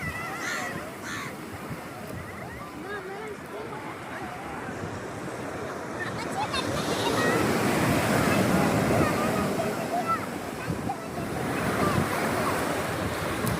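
Surf rolls and crashes on Alappuzha beach in swelling, loud waves with wind noise throughout; a few faint voices and crow caws come through beneath the roar.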